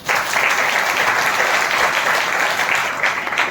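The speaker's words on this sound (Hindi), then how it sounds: "उनके लिए तालियां हो जाए" A congregation at a Hindi-language church service claps warmly, a dense, sustained round of applause from a crowd in an indoor hall, holding steady for a few seconds without speech.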